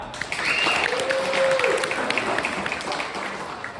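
A crowd at a sword festival claps and cheers for a sword fighter, with dense steady applause and a few shouts and whistles rising above it, loud and close throughout.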